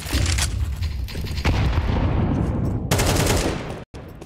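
Dense, loud gunfire in Counter-Strike on the Overpass map, with rapid shots in continuous bursts close by, a brief pause, then more firing.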